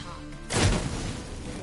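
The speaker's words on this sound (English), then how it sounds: "Get ready for some magic fireworks." Magic fireworks burst from incense in The Witcher 3: quiet hum, then a sudden loud crackling whoosh that flares and lingers as a sustained fizzing rush.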